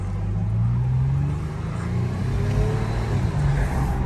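A 2012 Toyota FJ Cruiser Trails Team Special accelerates on the road, its engine note rising steadily from a low rumble under continuous road and tyre noise, heard from inside the cabin.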